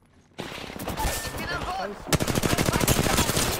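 Rapid automatic gunfire from a Wraith character in a shooter video game, loud and sustained bursts that intensify in the second half, with someone speaking over the shooting.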